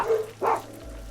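Dogs in the RimWorld colony game give two short barks about half a second apart. Both are brief and moderately loud over a low background hum.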